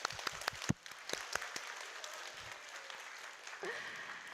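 A small group clapping during a relaxation practice at a ladies' day celebration, with scattered sharp claps at first that settle into steady, moderately close applause.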